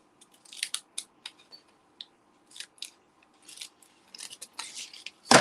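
Scissors snip through paper for a decorative leaf mask in short, crisp cuts, some single and some in quick clusters, close and fairly quiet against a faint background hum.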